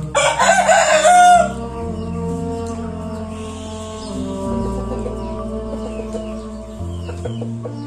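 A chicken being cleaned up before photos lets out a loud crow at the start, then softer clucking continues over a quiet background.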